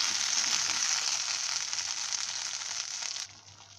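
Bubbling, crackling sizzle of a thick curry paste for paneer kurma boiling in a pan, steady and close, then abruptly softening near the end; no voices.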